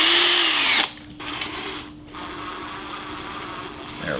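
A small power driver runs in short bursts, then holds a steady whine while driving tiny screws through a rotor to fix it onto the shaft of a DIY neodymium generator, close and fairly loud.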